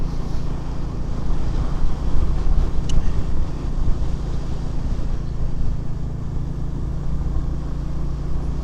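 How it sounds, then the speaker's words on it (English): Wind roaring past a rider on a Royal Enfield Classic 350 motorcycle, a loud, constant low buffeting rumble that runs the whole way through without a break. "You get a bit of wind on your chest. I'm getting a bit of wind round the back of my neck."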